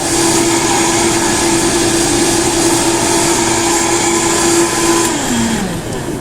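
A Vitamix blender runs at high speed, a loud steady whine with a constant roar, then the pitch drops near the end as the motor winds down.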